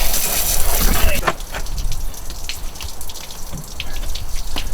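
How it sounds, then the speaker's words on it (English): Running water rinses mud off a muddy electric vehicle near its charge port, a steady splashing gush after an opening burst, fairly loud and continuous with occasional drips and taps. "this is the third time I've kind of rinsed it off."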